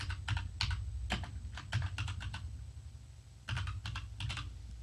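Bursts of typing on a computer keyboard, quick clusters of clicking keystrokes separated by short pauses, close and fairly quiet with no talk.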